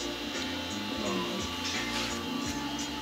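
A DIY round column CNC mill runs continuously, its stepper motors whining and stepping through shifting tones in a busy, mechanical drone with rapid pitch changes, close and steady throughout.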